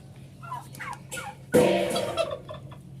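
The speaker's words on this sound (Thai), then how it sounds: "ไก่งวงครับพ่อพันธุ์แม่พันธุ์นะครับ" Breeding turkeys, three to four months old, give several quick gobbles close by, then one loud, rattling gobble burst and a few fainter calls as it fades.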